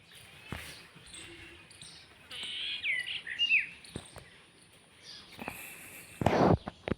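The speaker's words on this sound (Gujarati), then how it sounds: "પંખી કલરવ કરે" Birds chirp faintly in the morning outdoors along a village street, with short scattered calls over quiet background hiss, a few sharp clicks, and a louder burst of noise near the end.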